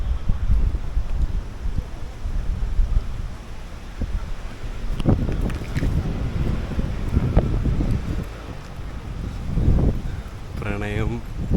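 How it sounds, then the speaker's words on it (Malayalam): Strong wind blows outdoors along a path lined with flowers, plants and large trees, buffeting the microphone in gusts that swell and ease over a low rumble, with brief voices breaking through now and then. "നല്ല കാറ്റുള്ള സ്ഥലമാണെന്ന് തോന്നുന്നു"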